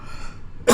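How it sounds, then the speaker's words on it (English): A single short cough or throat-clear comes close and abrupt at the very end after near silence. "The old coughing's come back."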